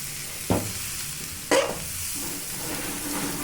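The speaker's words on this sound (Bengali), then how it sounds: "একটু ভেজে নিতে হবে কড়াইতে দিয়ে" Bay leaf and spices drop into hot ghee in a wok, two sharp sizzling bursts about a second apart that settle into a soft, steady frying hiss.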